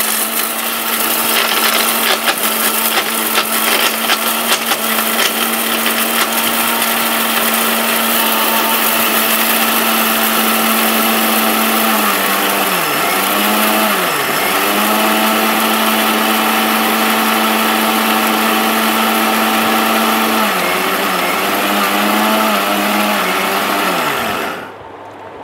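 A 1200-watt Ricco Tufan blender grinds whole spices into powder with a loud, continuous high-pitched motor whine, its pitch dipping briefly a few times under load before the motor winds down at the end.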